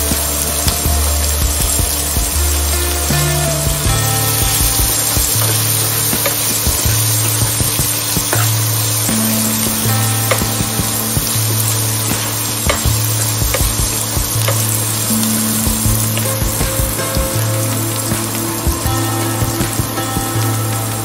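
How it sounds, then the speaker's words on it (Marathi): Chopped onion sizzles steadily in a pan for a Maharashtrian brinjal and potato bhaji, with a loud, continuous frying hiss, frequent stirring scrapes and clicks of a spoon, and a low steady hum underneath. "आता त्यात बारीक चिरलेला कांदा घालूया"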